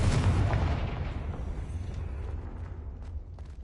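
A Confringo fire spell explosion in the Hogwarts Legacy video game, one loud booming blast at the start with a deep rumble that slowly fades over a few seconds.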